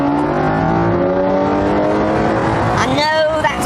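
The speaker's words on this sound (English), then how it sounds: "The original source of this sound is a 6-litre V12, which churns out 450 brake horsepower" A 6-litre V12 engine with 450 horsepower roars through an active exhaust, loud and close, revving and rising in pitch with a burst of acceleration near the end.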